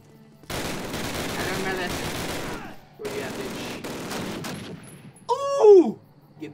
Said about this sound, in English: Why are you shooting, bro?